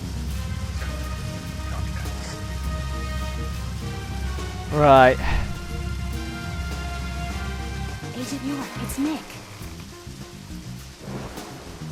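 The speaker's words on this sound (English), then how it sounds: "But it's raining." Rain falls steadily in the Deadly Premonition video game, a continuous wash of noise with music playing and a character's voice speaking over it.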